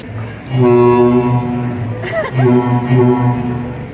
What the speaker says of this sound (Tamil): ஹார்ன் அடிக்குது.